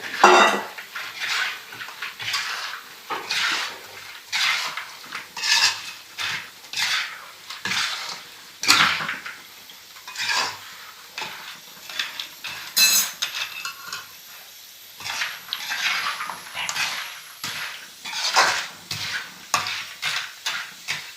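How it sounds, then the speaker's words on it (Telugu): Fish pieces being mixed with cumin and fenugreek powder for fish pickle, a busy run of close utensil scrapes and clinks against a pot, steady and irregular throughout with no talking. "జీలకర్ర మెంతుల పొడి అన్నీ కలుపుకొని చేప ముక్కలు కూడా వేసి మంచిగా కలుపుకోవాలి"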